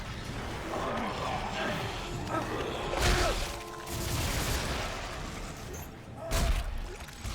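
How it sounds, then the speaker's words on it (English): Mines explode in the Dead Space 3 video game, two or three loud booming bursts with crackling debris standing out from a busy background of game effects. "I actually really like the noise in this game when they explode"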